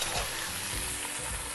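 Vegetables and paneer sizzle steadily in a pot during the cooking of a vegetable dum biryani, a continuous close-up frying hiss with faint stirring underneath and no one talking.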